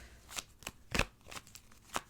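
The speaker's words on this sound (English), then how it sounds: "Card shuffle is so funny." Tarot cards shuffled by hand during a pick-a-card reading: five or six crisp riffling bursts spaced about a half second apart, close and fairly quiet, with no talking.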